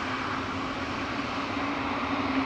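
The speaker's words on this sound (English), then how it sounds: "It's a whiny E2 Embraer 195." An Embraer E2 195 jet arrives at Amsterdam Schiphol Airport, its steady high engine whine riding over a broad, even roar heard from a distance.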